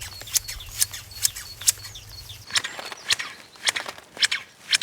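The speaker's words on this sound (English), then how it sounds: "you pull out your nice sharp hand shears and you just get into the cracks" Sharp hand shears snip a novelty-shaped hedge in quick, crisp clips, about a dozen close snips at an uneven pace, with a low hum underneath during the first half.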